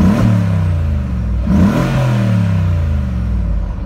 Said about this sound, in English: Just to give you an idea on the engine sound.